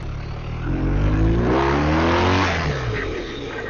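Police car engine rising and falling through a braking run using a front-load technique without wheel lockup, a loud close roar with tonal harmonics that swell in the middle and ease off.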